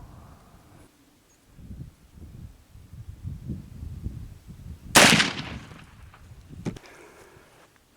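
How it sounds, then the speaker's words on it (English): A single loud black-powder muzzleloader shot fired with 80 grains of Swiss 3F, a sharp close blast that rings out briefly after several seconds of quiet low rumble and faint handling noise. "going to shoot the factory Swiss first"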